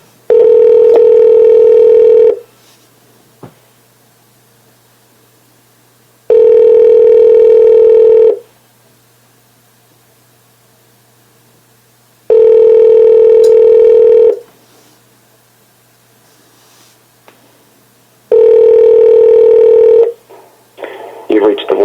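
A telephone line rings during a call transfer with four long, loud ringback tones of about two seconds each, evenly spaced by quiet gaps. A faint burst of other sound enters at the very end.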